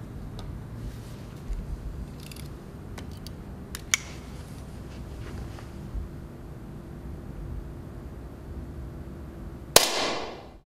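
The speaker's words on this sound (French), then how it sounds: "nouvelle génération de tir, pistolet à air," Sport shooting with an electronic air pistol: a few faint, sharp clicks and ticks are spread over a quiet, hissy background, then a single loud, crisp shot-like crack near the end.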